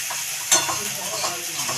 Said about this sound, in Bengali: এবার আমি পেঁয়াজ কুচিগুলোকে দিয়ে দেবো।